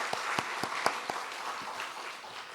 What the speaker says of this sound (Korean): 우리 박수 한번 치십시다.